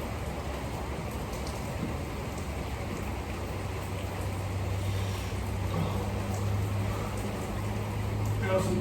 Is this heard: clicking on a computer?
no